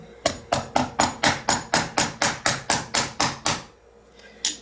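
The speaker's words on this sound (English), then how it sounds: "So sometimes you have to use the rawhide mallet." Rawhide mallet striking a metal cuff bracelet laid over a urethane block, about fourteen evenly spaced sharp knocks in quick succession, a short pause, then one last blow.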